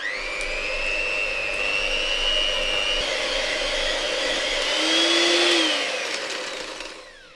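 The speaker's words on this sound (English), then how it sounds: "We then add our 225 grams of sugar into our bowl, and now we're going to give it a quick whisk." Electric whisk creaming margarine and 225 grams of sugar in a bowl for a rhubarb and custard Victoria sponge, a steady motor whine held for about seven seconds with a slight pitch rise near the end, close and fairly loud.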